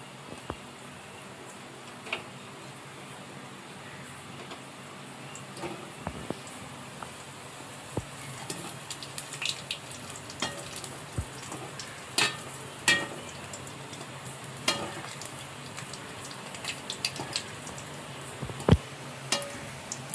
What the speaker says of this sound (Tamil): என்ன சூடாயிடுச்சு நம்ம எண்ணெயில் பிரெட்டை பிரித்து எடுத்துப்போம்